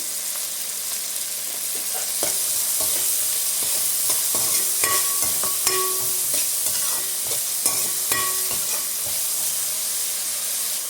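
Ginger garlic paste fries in hot oil for an egg biryani, a continuous close sizzle broken by repeated clinks and scrapes of a spoon stirring the pan.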